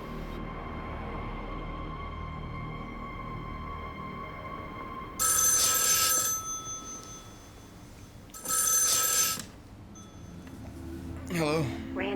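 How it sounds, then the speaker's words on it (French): A telephone rings in three bright bursts, each lasting about a second, spaced a few seconds apart and loud against a quiet room hum. "Belva, la mère de Randy, lui téléphone."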